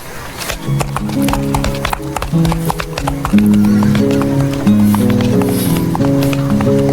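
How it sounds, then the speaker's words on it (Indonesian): Horse hooves clip-clopping in the video game Minecraft, a steady run of loud rhythmic hoof clops with a short whinny mixed in and game music underneath. "Kuda gua mana ya? Lu kan kuda, Ben."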